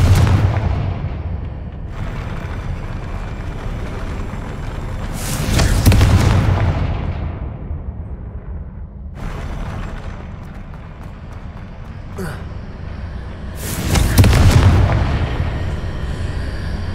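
Confringo blasting spell detonating in Hogwarts Legacy, two heavy booming explosions about eight seconds apart, each a loud broad burst fading into a rumbling tail over steady ambient game noise.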